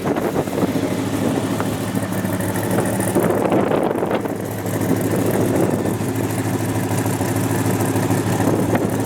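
A 1969 Chevrolet El Camino, left sitting all summer and gathering rust, runs on its engine after a cold start on a weak battery: a steady, close, unbroken rumble with no voices.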